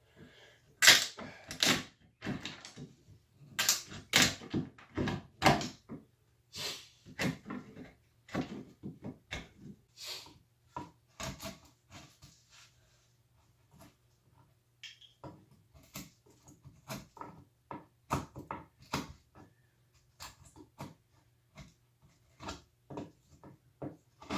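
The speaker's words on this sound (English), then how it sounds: "it makes it easier to chisel that out of there" Sharp, irregular taps and knocks of a chisel working out pre-cut wood for a Murphy bed build, close and dry, coming in quick bursts with short pauses and a faint steady hum behind.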